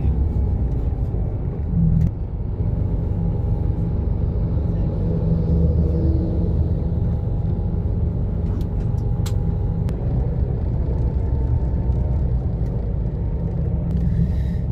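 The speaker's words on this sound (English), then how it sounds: "Monday morning" Monday morning road traffic on the M25 heading toward London makes a steady, dense rumble of cars and heavier vehicles, continuous and close, with no talking.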